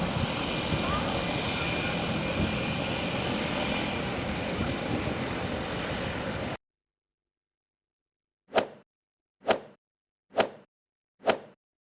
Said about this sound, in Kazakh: Бұл гидроұшақ.